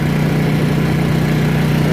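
Honda EU2000 portable generator engine running flat out during a break-in run, a steady, even mid-pitched drone with a throbbing low hum, close and unbroken.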